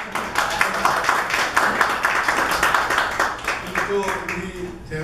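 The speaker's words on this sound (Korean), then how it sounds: "우리 박수로 환영하는 것입니다." Guests at a Korean community sports festival closing ceremony are greeted by an audience clapping, a sharp, rhythmic burst of many hands that tapers off, with a voice talking over it.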